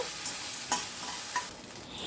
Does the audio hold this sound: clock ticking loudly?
no